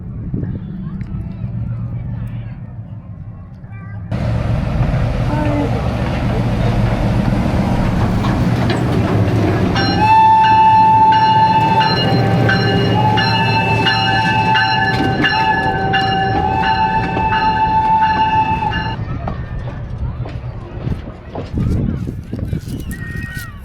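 A train at Heritage Park, Calgary, rumbles in loudly and rolls past close by, with a long, high-pitched horn or squeal ringing out midway before the noise fades.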